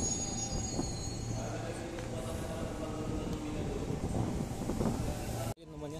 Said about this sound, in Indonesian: Tadi saya dengar ada kereta melintas langsung teman di jalur 7 ya, ke sana.